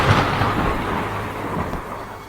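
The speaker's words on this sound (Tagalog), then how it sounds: "Kumulog at kumidlat." Deep rolling thunder rumbles through heavy rain in a dark forest, a broad sustained roar that fades slightly over the short stretch, with no voices.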